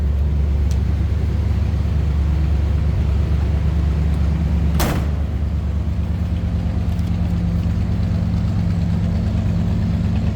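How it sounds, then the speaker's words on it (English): A 1963 Ford Thunderbird hardtop's V8 idles high while warming up, a steady, close, low rumble that runs unbroken, with one brief sharp noise about halfway through. "We're on high idle, we'll see if it'll come back down."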